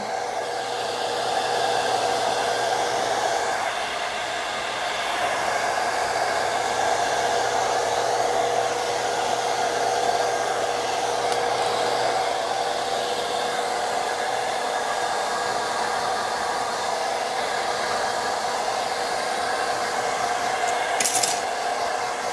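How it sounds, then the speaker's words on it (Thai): Hair dryer blowing steadily and loudly on hair at home, a continuous close whir that holds without pause throughout. "เป่ามันจะได้แห้งนะคะ"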